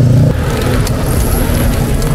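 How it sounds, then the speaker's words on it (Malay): Road traffic with many cars around a large folding-bicycle gathering in Putrajaya, a steady loud wash of engine and tyre noise close by, with a brief low rumble at the start. "So kat sini kereta dah banyak."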